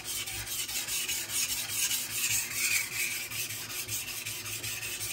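A knife being sharpened on a very fine 10K whetstone, rated 1 micron, using a Buck Honemaster guide, gives a steady, close rasping rub of repeated strokes that runs continuously without talk.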